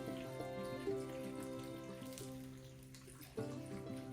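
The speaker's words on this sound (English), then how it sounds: "Here's the chicken broth that I canned earlier. Pour it all over." Home-canned chicken broth poured over a roast beef in a slow cooker, a faint continuous trickle and splash with small plops over a low music-like hum.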